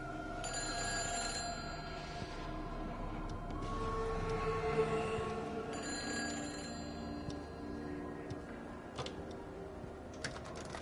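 A telephone rings insistently in the game Everybody's Gone to the Rapture, with repeated bursts of ringing over a soft ambient background and scattered clicks, no voices.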